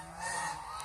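Domestic geese on a farm give a short nasal honk under a faint murmur of background noise.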